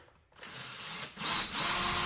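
A power drill with a 3/8 inch masonry bit bores anchor holes for mounting a hydraulic lift pump, a steady whirring grind that briefly pauses and then resumes harder and louder.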